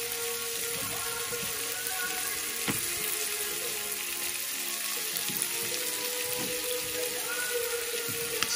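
Carrots and tomatoes sauté in ghee over a little less than high heat, a steady close hiss and crackle of frying that holds constant throughout with a few faint clicks.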